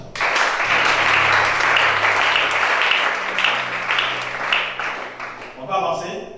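A church congregation claps together in sustained, dense applause, loud and close, while a voice carries over it before the clapping thins out near the end.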